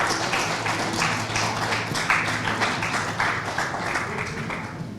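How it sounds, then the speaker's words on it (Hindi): An audience at a Hindi-language panel discussion event claps steadily, a continuous even wash of applause with no one speaking, lasting throughout. "जोरदार तालियां।"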